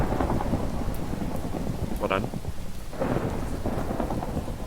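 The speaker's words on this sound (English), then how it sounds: "It's always raining on the server" Steady rain pours in a Minecraft game with a rolling thunder rumble, a dense hiss of drops throughout while a player's voice briefly speaks over it.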